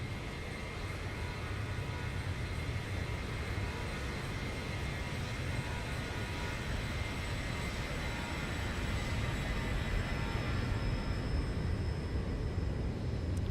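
An aircraft roars past in a flight simulator game, a steady broadband engine drone that holds loud and even from start to finish, with no clear rise or fade.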